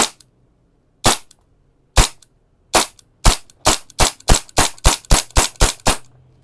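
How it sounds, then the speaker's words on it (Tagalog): A G&G STP45 gas blowback airsoft pistol fires about thirteen sharp, loud cracks at close range during a chronograph test. The shots start with slow gaps and then come in a quick, even string. "Test natin, guys. Chrono test tayo, firing. Lakas ng blowback."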